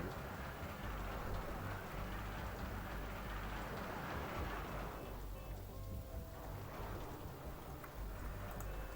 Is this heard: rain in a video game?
yes